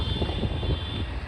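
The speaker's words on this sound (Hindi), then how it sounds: "गाड़ी 2 नंबर में है और गाड़ी आवाज़ कर रही है।" A steady low motorbike engine drone hums close by, laboring evenly in second gear while climbing a mountain road in Nepal, with a faint high whine over it.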